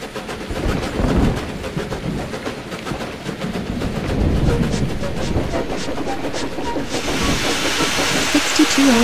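Train in the Rails of Highland Valley video game running along the track, a steady rumbling rattle with hissing and clicking that holds throughout, getting brighter and hissier near the end.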